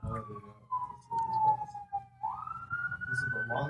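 Police siren wailing in long descending and rising sweeps, loud and fairly near, with brief muffled voices underneath.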